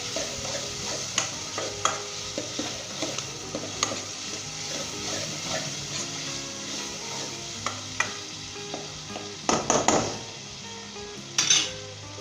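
Onions with ginger garlic paste sizzle and fry in a pan while a spoon stirs and scrapes, for a mutton kunna dish, a steady close crackle with repeated metallic knocks and a few louder scrapes.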